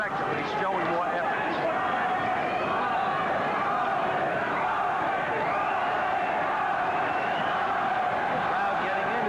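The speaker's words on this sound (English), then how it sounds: "Crowd getting into it here." A boxing crowd roars steadily at a Las Vegas lightweight title fight in the final round, a dense, loud, continuous wall of cheering with a commentator talking over it.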